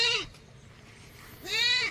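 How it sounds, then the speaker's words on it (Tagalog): A goat on a farm gives two clear, wavering bleats separated by a short pause, close by and fairly loud against a quiet outdoor background. "Yung iba nating kambing."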